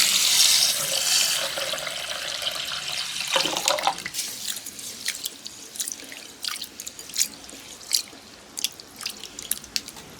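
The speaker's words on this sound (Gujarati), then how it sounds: "એને આપણે સરસ ધોઈ લઈએ અને પછી અડધો કલાક માટે ગરમ પાણીમાં રવા દઈએ" Tap water runs into a bowl of skinless moong dal as it is rinsed, a steady splashing stream that gives way to sloshing, swishing and dripping as the lentils are rubbed and stirred, close and alone without talk.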